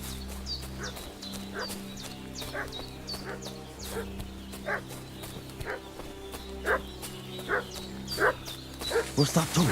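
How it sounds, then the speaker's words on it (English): A dog barking repeatedly in the video game Kingdom Come Deliverance 2, a series of sharp yips and barks at a steady pace over a low droning background, growing louder toward the end. "What's that dog making such a fuss about?"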